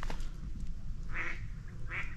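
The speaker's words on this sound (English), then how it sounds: "We have some black swans." Black swans calling on dry mudflats by the coast of a Welsh island, two short honking calls a moment apart, moderately near over steady wind noise.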